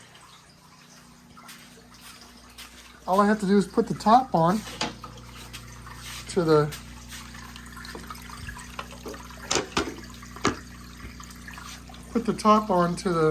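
Water splashes and trickles up through the overflow of a 100-gallon Chesapeake Bay oyster reef biotope aquarium, a steady low wash running beneath someone talking.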